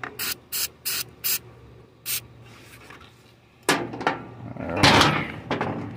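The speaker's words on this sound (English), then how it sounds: "Let me get some of this carb and choke cleaner. Just might need a little squirt to get it going." Short bursts of carb and choke cleaner spray hiss into an old abandoned scooter, four quick squirts and then another, followed by clunks and rattling handling noises close by.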